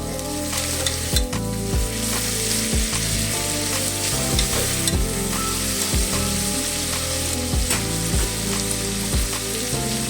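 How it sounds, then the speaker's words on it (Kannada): Sliced onions sizzle and fry steadily in a pan for a rice dish, with a dense continuous crackle and occasional sharp stirring knocks against the pan throughout, no voices present. "ಈರುಳ್ಳಿ ಎಲ್ಲ ಚೆನ್ನಾಗಿ ಫ್ರೈ ಆಗಬೇಕು ನೋಡಿ."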